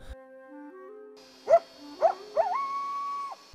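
A coyote howls alone over a faint musical background: three short yips rising in pitch, then a sustained wavering howl that holds and breaks off, fairly close and clear.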